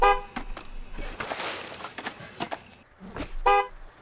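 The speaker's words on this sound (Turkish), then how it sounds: "Basmayın lan kornaya" Car horns in a street video game honk in short blasts at the start and again near the end, with brief toots and traffic noise scattered between them.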